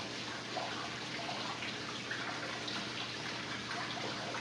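A small waterfall runs in a paludarium built from an old glass shower enclosure, a steady close trickle and splash of water that continues evenly throughout with no talking.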